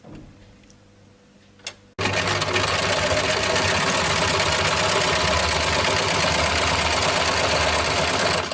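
A sewing machine stitches a dart on the back piece of a Katori blouse, starting abruptly after a quiet pause with a loud, steady, fast mechanical whirring that runs continuously to the end.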